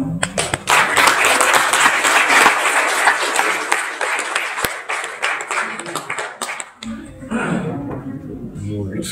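An audience at a Dharma Wacana speech contest in a hotel resort breaks into lively applause, dense clapping for several seconds that tapers off, followed by a voice speaking.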